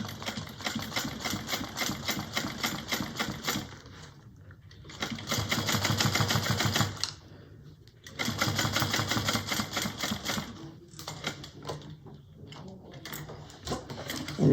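Sewing machine stitching a leather wallet, running back and forth in back-stitch bursts: rapid, even mechanical clatter that starts and stops several times, close and moderately loud.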